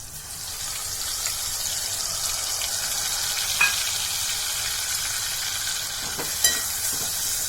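A spice mixture hits hot garlic in a pan and sizzles loudly and evenly, with a couple of faint utensil clinks over the steady frying hiss.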